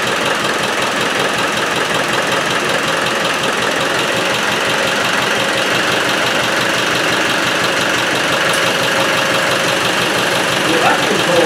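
A Spanish-built 110 engine idles steadily close by, with a continuous, rapid knocking chug held at an even level throughout.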